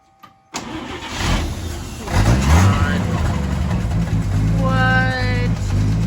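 A 1955 GMC truck engine cranks and catches, then settles into a loud, steady rumbling idle close by, with a rising whine near the end and voices talking over it.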